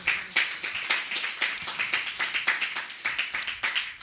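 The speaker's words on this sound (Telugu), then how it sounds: "కొట్టండి చప్పట్లు" A church congregation at a new year worship service claps in unison, a steady rhythmic run of crisp, fairly quiet claps at an even pace with no talking.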